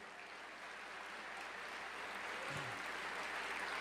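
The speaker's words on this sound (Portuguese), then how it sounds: "Pode aplaudir a Jesus." A church congregation applauds at a sermon, a dense, steady wash of clapping that swells slightly louder toward the end, with a brief low voice-like sound partway through.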